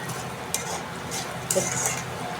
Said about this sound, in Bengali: ডিমটা ভালোভাবে ভাজা হলে